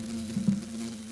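Close, steady low-pitched buzzing of a mud dauber wasp in flight, a single continuous drone with slight wavering.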